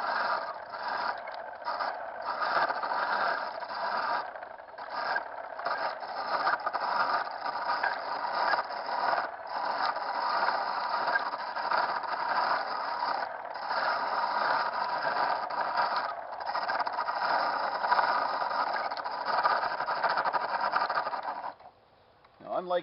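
A foot-powered treadle lathe turns wood while a chisel cuts it, giving a steady close scraping and whirring with a rhythmic pulse from the pedalling, running almost without a break.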